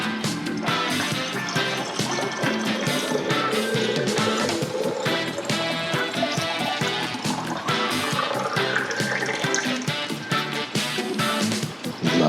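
Tea poured from a pot into a cup, a continuous close trickling and splashing stream that changes in tone as the cup fills, heard alone without speech.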